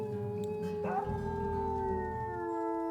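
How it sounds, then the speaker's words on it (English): A pack of dogs howls in long, overlapping tones with one voice swooping upward near the start; a person talks softly beneath the steady chorus. "They've got some interesting howls that we don't really hear very often."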